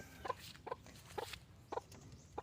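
A hen clucks in short, evenly spaced bursts, five soft calls over a quiet outdoor background.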